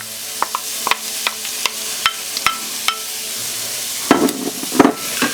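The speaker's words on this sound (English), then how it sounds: "I'm going to add the onion." Chopped onion frying in a pan over slightly above medium heat for a prawn Madras curry, a steady close sizzle broken by regular sharp scrapes and clatters of stirring, growing busier near the end.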